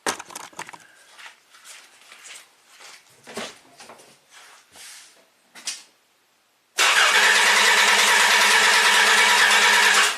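A car engine fired with a portable jump starter bursts abruptly to life after several seconds of quiet background voices, then runs on loud and steady until the end.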